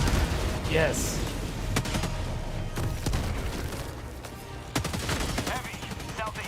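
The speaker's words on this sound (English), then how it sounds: "Throwing grenade." Combat sounds from Black Ops 3 Zombies on the Gorod Krovi map, with a grenade blast among sharp bursts of gunfire, running steadily under continuous talk and game voice callouts.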